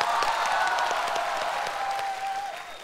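Studio audience applause at a Chinese talk show, a dense sustained burst of many hands clapping that holds loud and gradually tapers toward the end, with a brief whistle-like tone over it.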